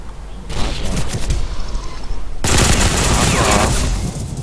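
Rapid gunfire from the shooter video game Ghost Recon, dense bursts of shots that grow louder and more continuous in the second half, with brief talk mixed in.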